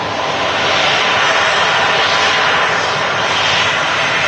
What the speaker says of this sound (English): This Jet2 aircraft in from Mittelen